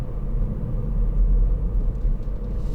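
A 2018 Ford Fiesta ST-Line X with the 1.0 EcoBoost engine cruises steadily in a high gear, giving a low, constant engine rumble heard from inside the car with no voices.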